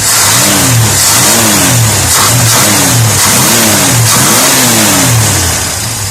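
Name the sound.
car engine revving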